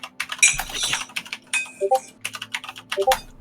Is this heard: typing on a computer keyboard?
yes